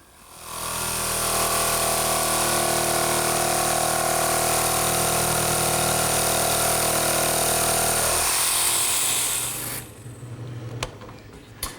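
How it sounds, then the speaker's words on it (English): A handheld jigsaw buzzes steadily through a wood panel for about eight seconds, loud and close, then winds down, followed by a few light knocks. "Now the rest of the cuts are going to be done with my handheld jigsaw."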